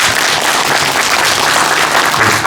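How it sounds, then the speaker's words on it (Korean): Thick, sustained clapping from a seated lecture audience at a Korean liberation association talk, close and loud, a steady wash of many hands with no break. "다시 한번 힘찬 박수 부탁드리겠습니다."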